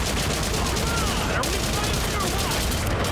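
Rifle fire from the Haze video game hammers in continuous, loud bursts without pause, dense and close across the whole short stretch.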